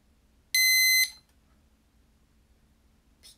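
An alarm clock lets out a single loud, shrill electronic beep lasting about half a second in a quiet room, followed near the end by a much fainter, brief high chirp.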